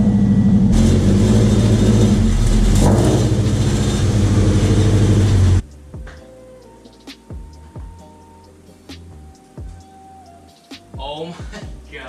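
A widebody Scion FR-S sports car engine runs loud and close with a throaty idle and light revving, then cuts off abruptly, leaving quieter clicks and knocks in a garage.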